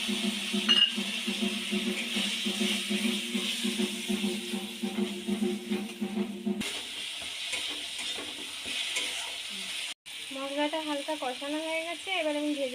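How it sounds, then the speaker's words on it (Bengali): Eggplant and potatoes being stirred into a spiced pan of chilli and turmeric, scraping and sizzling steadily up close, with a brief clink partway through and a voice talking over the cooking. "রাখা বেগুন আর আলুগুলো দিয়ে দেবো হালকা নেড়ে নেব"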